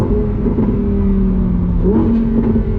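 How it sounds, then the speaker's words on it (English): A loud, high-revving V10 exhaust note from a 2025 Lamborghini Huracán Tecnica holds a steady snarling tone, then climbs sharply in pitch near the end as the engine revs harder, with no talking. "V10 Symphony, the pops and bangs, the exhaust note"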